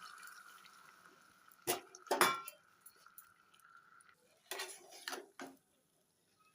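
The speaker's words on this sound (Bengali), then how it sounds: "এরপর আমি শিরার থেকে তুলে আমগুলো ঢেলে দিচ্ছি" Mango pieces lifted from thick sugar syrup for mango murabba are poured into a metal vessel, giving a few close clinks, clatters and wet drips separated by quiet gaps.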